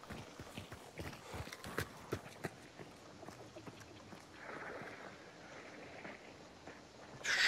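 Hooves of a horse clip-clopping in the video game Hunt Showdown, a quiet, uneven series of thuds over wind and ambient game noise.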